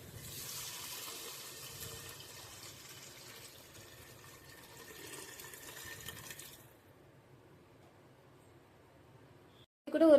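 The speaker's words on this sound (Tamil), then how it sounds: "கரைச்சி வச்சிருக்க புளி தண்ணியை இதில் ஆட் பண்ணிக்கலாம்." Tamarind water pours into a pot of kavalai fish curry, a faint, steady liquid splash lasting several seconds before stopping, followed by near silence and a brief louder clatter at the very end.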